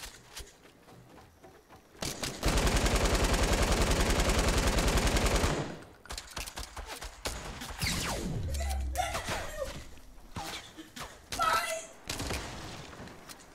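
Rapid automatic gunfire from a weapon in the Fortnite video game, a loud sustained burst lasting several seconds, then scattered in-game thuds and effects with a voice talking.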